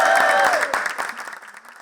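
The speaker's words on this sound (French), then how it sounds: "Des applaudissements pour leur champion." Local supporters of Benoît Hamon applaud and cheer his primary election victory: a brief burst of dense clapping with a crowd roar and a few high tones at first, quickly fading out.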